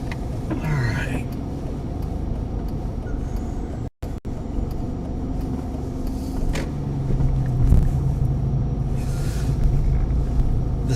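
An Infiniti G37 drives along a road during a lake-effect snow chase by the Erie lakeshore, a steady low engine and tire rumble from inside the cabin with a brief dropout, as people talk over it.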